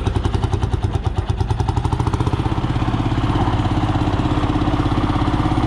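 Antique Lanz 24 tractor with its original silencer, its single-cylinder engine thumping in a loud, steady rapid rhythm that evens out as it runs, close by with no voices.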